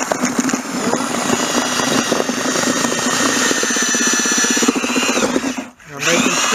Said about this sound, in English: This is a 3/4 horsepower Milwaukee. You will just destroy a regular drill. Mix this up a little bit.